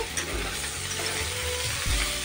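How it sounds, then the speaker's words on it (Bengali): Steady frying sizzle of boiled bitter gourd and potatoes in a pan, with scraping and clanking of a utensil as they are turned, fairly loud and close, no voices. "এভাবে আমি একটু পর পর উল্টে পাল্টে নেব, তাহলে ভাজা ভাজা হয়ে আসবে।"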